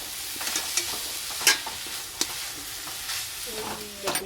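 Khoya kheer and milk powder are stirred in a kadai, with scattered scraping and clinking strokes of the spoon against the pan and a soft sizzle between them.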